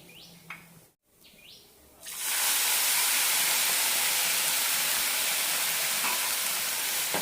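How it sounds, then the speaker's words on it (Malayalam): Milk poured onto roasted bread in a hot pan for bread halwa erupts into a loud, steady broadband sizzle after a couple of quiet seconds with light clinks, then hisses on without letup. "ഇനി ഇതിലേക്ക് പാലൊഴിക്കാം"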